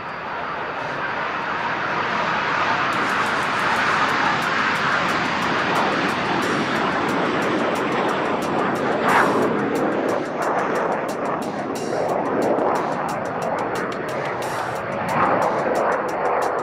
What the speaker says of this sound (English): Following the HTT-40 takeoff will be the takeoff of the intermediate jet trainer right in front of you.